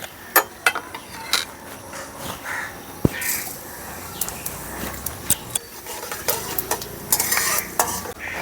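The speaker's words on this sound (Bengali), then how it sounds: "এখন এর মধ্যে দিয়ে দিচ্ছি পাঁচফোড়ন।" Panch phoron spices dropped into hot mustard oil with bay leaf and dried red chillies, stirred with a metal spoon: soft sizzling under repeated clinks and scrapes against the pan, with crows cawing in the background.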